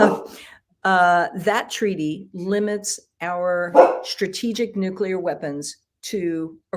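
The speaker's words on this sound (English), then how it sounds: "apologies for my dog" A dog barks in the background while someone talks steadily, and the barks are partly buried under his voice.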